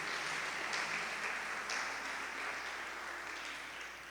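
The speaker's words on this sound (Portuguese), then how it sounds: "Você pode aplaudir o Senhor?" A church congregation applauds together, a dense, sustained patter of many hands clapping at once. The sound is fairly soft and fades gradually toward the end.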